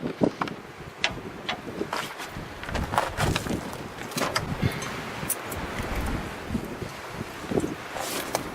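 Gusty wind blows steadily around a desert RV spot with Joshua trees, buffeting and rustling in uneven surges with rumbling microphone noise, with no talking.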